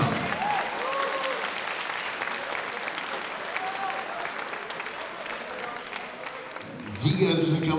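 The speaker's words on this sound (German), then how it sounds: "Applaus nochmal für die beiden Fighter" Applause from a live crowd at a fight night event after a title bout, a steady mix of clapping and cheering with voices mixed in, swelling louder near the end.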